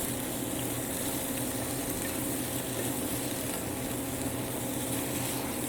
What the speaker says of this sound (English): we're just going to kind of grill these up. Take about 10 minutes to sweat them down